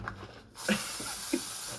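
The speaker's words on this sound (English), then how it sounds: "foot spray." An aerosol can of foot spray releases a sustained hissing burst that starts abruptly partway in and holds steady to the end, close and moderately loud.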